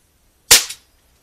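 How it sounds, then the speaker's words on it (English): A single sharp metallic clack from cocking the side lever of a Mondial Oklahoma .177 smoothbore air pistol, which locks up the breech block. The snap is close and loud, with a brief second click at the tail, and no talking. "how you cock this is there's a lever on the side, and it locks up the breech block"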